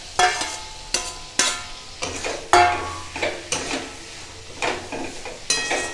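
A spoon stirs pre-fried prawns through a sizzling masala in a pan, with repeated scraping strokes and clanks against the metal every second or so, close and clear.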